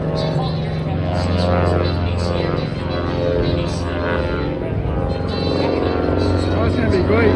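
An aircraft at the Spirit of St. Louis Air Show flies past with its landing gear down, giving a steady, loud droning engine roar throughout while people talk over it.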